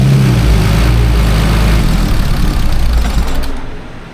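BMW E39 turbo wagon idling with the A/C compressor engaged, a loud steady low rumble that fades slightly near the end, no voices.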